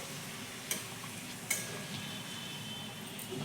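Papad frying in hot oil in a village kitchen: a soft, steady sizzle with a couple of sharp clicks as pieces are turned, quiet and with no voices.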